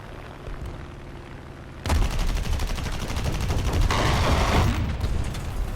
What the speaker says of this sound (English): Let's bring the 20mm cannons to bear.